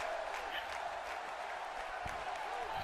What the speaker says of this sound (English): Crowd chanting on Bailey.